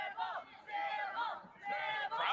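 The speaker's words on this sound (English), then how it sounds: "Crowd chiming in there" Crowd at a lingerie fighting match cheering and shouting in loud, continuous waves that swell and dip over a couple of seconds, with overlapping voices throughout.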